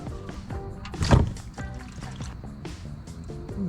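Engine oil drains from a 2004 Subaru Impreza WRX, a close, wet trickle and patter with small splashy bursts. One louder gush comes about a second in.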